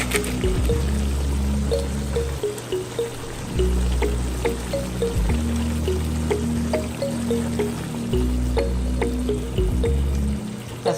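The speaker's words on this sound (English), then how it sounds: "I'm gonna go in now with the coconut powder as well as the coconut milk" Coconut milk pours and drips into a pot with gurgling splashes and uneven trickles, close by, alongside a low intermittent hum.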